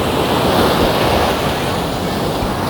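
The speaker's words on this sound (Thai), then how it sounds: "คลื่นคลื่นคลื่นคลื่น" Ocean waves break on a sloping beach at Bang Saphan on the Thai coast in strong onshore wind: a loud, steady roar of surf and gusting wind fills the whole stretch with no pauses.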